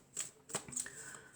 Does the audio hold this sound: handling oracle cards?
yes